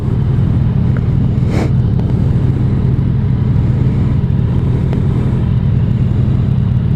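A Yamaha FJ-09 motorcycle being ridden on the road, a loud steady engine drone with heavy rumble and wind buffeting throughout, one brief whooshing swell partway through.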